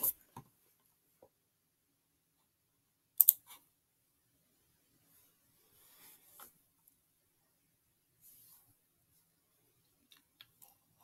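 A few sparse, faint computer mouse clicks during an Adobe Spark login, with one louder double click near the start and scattered soft taps in an otherwise quiet room.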